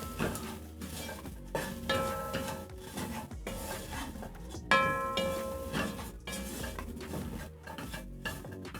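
A utensil stirs pilau masala into beef pilau in a cooking pot, with repeated scraping, rasping strokes against the pot in an uneven rhythm, fairly quiet and close, with no talking.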